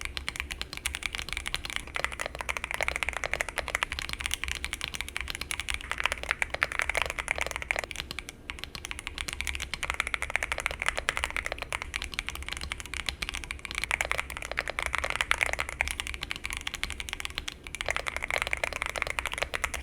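Steady, fast typing on a CIDOO V65 prebuilt mechanical keyboard with plate foam and a two-layer tape mod, close and continuous with dense clacky keystrokes throughout.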